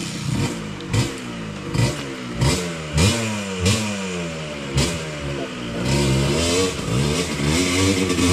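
A YC 125 enduro motorcycle on a trail revs hard, its throttle blipped about seven times in quick bursts that rise and fall, then held in a steadier, louder roar close to the recorder, with no talk over it.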